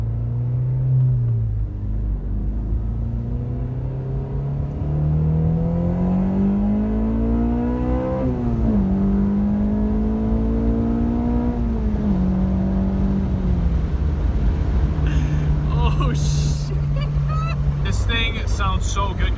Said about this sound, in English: The exhaust is finally starting to like break in.